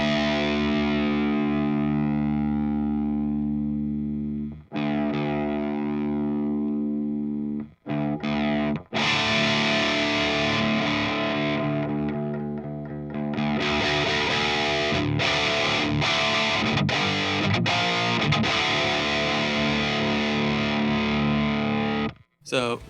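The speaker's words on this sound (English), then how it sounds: "And as a result, you get a very clear guitar tone." Distorted electric guitar playing chugging rhythm chords, loud and sustained with brief stops between phrases.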